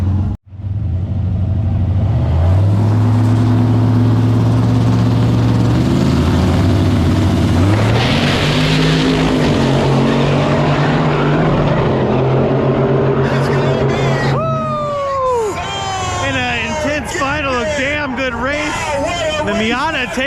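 Mazda Miata and a Monte Carlo launching in a no-prep True Street drag race final at Immokalee Regional Raceway, loud engines revving and roaring close by, rising through gears, then an announcer talking excitedly over the fading noise.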